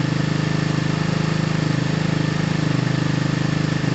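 A Lexmoto FMX 125 motorcycle idles steadily after its exhaust was fixed. It gives a close, even, rapidly pulsing putter for the full four seconds with no speech over it.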